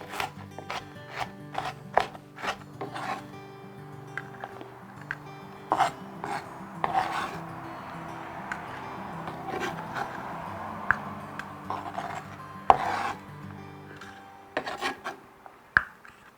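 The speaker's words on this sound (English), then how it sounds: "So I'm gonna continue to chop it smaller." A knife chops red onion smaller on a cutting board in a kitchen, a steady run of sharp, close taps and scraping rasps with irregular rhythm, no voices.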